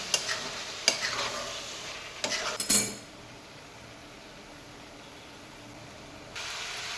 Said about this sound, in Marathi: तेलावर छान परतून घेतले आपण बघा दोन मिनटासाठी